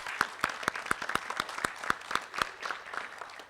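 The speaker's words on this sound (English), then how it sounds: "let's give them a round of applause" A small audience at a school board meeting claps for student speakers: a sparse, fairly close patter of individual hand claps with a regular rhythm that thins out toward the end, with faint talk underneath.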